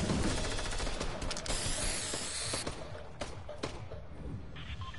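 Rapid video-game gunfire in Fortnite rattles loudly in dense bursts over a busy game soundtrack, with mechanical clicks, thinning toward the end.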